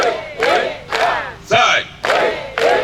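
An audience at a 2018 thanksgiving church celebration in Bambama erupts in loud bursts of cheering and shouting, several swelling waves of crowd noise with brief dips between them.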